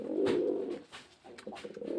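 A pair of green pigeons at a pigeon sale coo softly nearby in low, throaty rolling calls, with a short pause between phrases.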